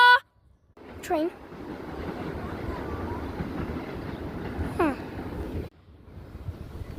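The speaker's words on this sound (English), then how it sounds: "Yeah! Train." A train passing by outdoors, a steady low rumble carrying on for several seconds under wind noise on the microphone, while excited voices shout briefly over it.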